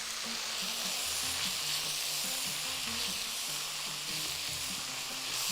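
Balalit vermicelli frying in a pan for Bahraini cooking, giving a steady, close, dense sizzle with faint stirring underneath and no voices.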